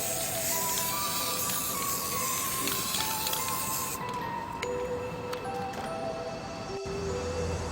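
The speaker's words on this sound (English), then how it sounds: "we're going to spray up these with a dark" An aerosol can sprays dark metallic navy paint generously over Harry Potter Peruvian Instant Darkness Powder props, making a steady, close, loud hiss that runs without a break and has no talking over it.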